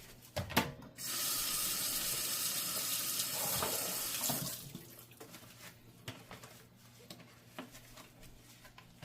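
Running tap water splashing into a sink while greasy dishes are hand-washed with Dawn Platinum lemon dish soap, a steady close rush for several seconds, then quieter clinks and drips as the flow stops.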